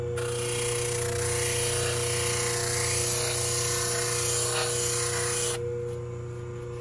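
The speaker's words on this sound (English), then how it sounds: "I'm going to turn this on and I'm going to just come at this, and you'll be able to see that I can grind down this material" A grinder runs steadily and loudly, with a harsh rasping layer as it grinds down orthotic insole material, then the grinding stops near the end while the motor hum lingers.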